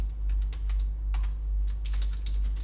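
Fast, uneven clicking of keys on a computer keyboard while C code is typed, steady close-up tapping with short bursts and pauses, alone over a low electrical hum.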